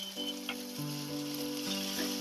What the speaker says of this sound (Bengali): পেঁয়াজ কুচিটা আমি ভাজবো।